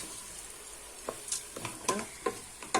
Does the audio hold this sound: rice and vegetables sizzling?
yes